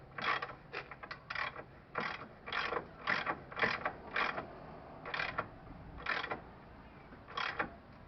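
Hand ratchet clicking in short irregular bursts while tightening steering rack bushing bolts on a 1997 Pathfinder, close up with brief pauses between strokes and no voices.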